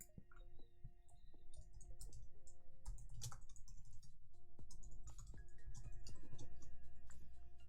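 Rapid clicking of keys on a computer keyboard as shortcuts are typed, bursts of close, crisp taps in an uneven rhythm over a quiet room.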